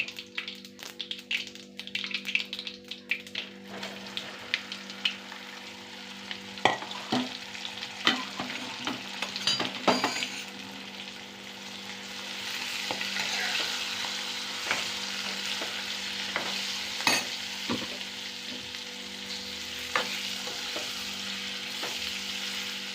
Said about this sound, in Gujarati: ભરેલ ભીંડાનું શાક વઘાર થઈ ગયો છે